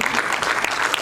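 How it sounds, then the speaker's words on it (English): A seated conference audience claps in a dense, steady round for a panel moderator, loud and continuous from start to finish with no talk over it. "the moderator deserves a great round of applause"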